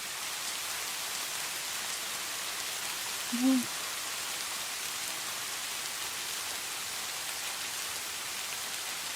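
Rain falls steadily on a trekking route between Jaflong and Bichanakandi, making an even, unbroken hiss with one brief low tone near the middle.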